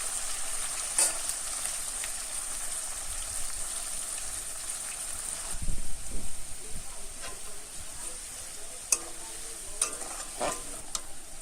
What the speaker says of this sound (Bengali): বিমস আর পেপসিকাম একসঙ্গে ভেজে নেবো